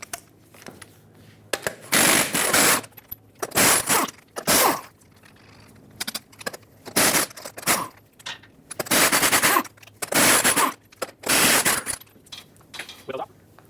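24mm lug nuts being removed from a Dodge Ram 2500 wheel with an impact wrench, several loud rattling bursts of a second or so each, separated by short quiet gaps.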